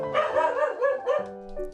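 A dog barks indoors in a rapid series of about five yappy, high barks that break into a whine, close and fairly loud, with no talk.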